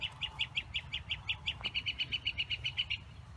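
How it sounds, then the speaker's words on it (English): Songbirds chirp outdoors in warm weather on a rural homestead, a steady run of quick, evenly spaced high tweets repeating about six per second, fairly distant and soft over a low background rumble, no talking. "nice to hear the birds."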